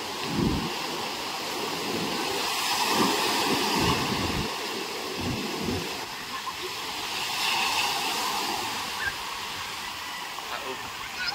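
Large sea waves crash and wash onto a shore in stormy weather, with a continuous roar and surges that rise and fall. Voices talk nearby over the surf.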